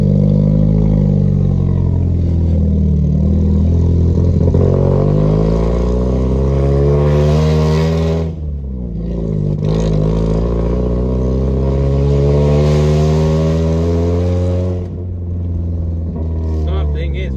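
A car engine idles loudly and unevenly up close, its revs rising and sagging in a wavering drone with a dip partway through, as if the RPMs are dropping too low.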